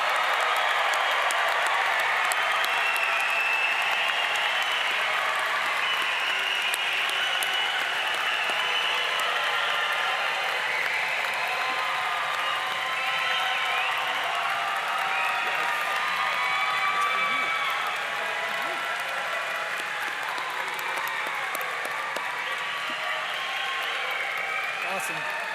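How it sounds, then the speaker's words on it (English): A graduation crowd claps steadily in sustained, dense applause that fills the whole stretch, tapering only slightly toward the end, with scattered cheers mixed in. "let's have one more huge round of applause for all of our graduates"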